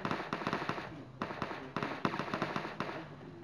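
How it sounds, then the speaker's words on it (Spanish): Gunfire in the mobile battle royale game PUBG Mobile comes in rapid bursts of sharp cracks, four or five quick volleys separated by brief pauses, loud and close with no talking. "tiros en mi espalda"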